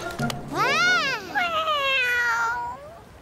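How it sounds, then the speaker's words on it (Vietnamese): A cartoon kitten meows twice, close and loud: a long rising-then-falling mewl followed by a second drawn-out, wavering cry that trails off. "Là một con mèo."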